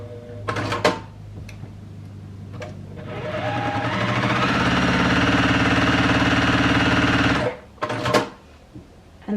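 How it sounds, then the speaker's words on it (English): Sewing machine stitching down lines on quilt fabric, a steady close whirring run of several seconds, bracketed by brief handling clicks and knocks before and after. "So let's hop over to the sewing machine and I'll show you how to do that."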